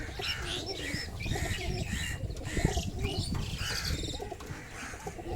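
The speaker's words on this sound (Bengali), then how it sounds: "অনেক পায়রা রয়েছে ভেতরে।" Many pigeons in a raised, netted backyard coop on a river island, cooing in soft overlapping rolls with occasional chirps, close and steady throughout.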